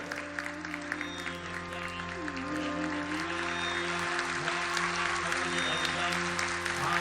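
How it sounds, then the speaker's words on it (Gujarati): An audience applauds at an Arangetram classical dance graduation performance. The clapping is steady and sustained, grows a little louder midway, and rises over held musical tones. "ખરેખર આપની તાળીઓ આ લોકોને ખૂબ જ ઉત્સાહિત કરી રહી છે."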